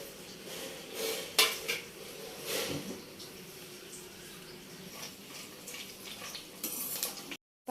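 Metal utensils clink and scrape against a pan while green chillies fry in oil, with a sharp clatter early on and a soft sizzle underneath throughout; no one speaks.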